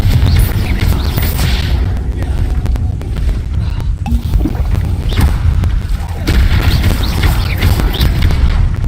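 Confringo explosion spell in the video game Hogwarts Legacy: heavy booming blasts and thuds over rumbling game noise, loud and close, with a voice speaking briefly.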